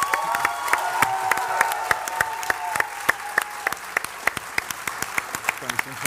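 An audience applauds performers in a dense, sustained round of clapping with sharp individual claps standing out, a sustained tone rings through the first part, and a voice speaks briefly over it.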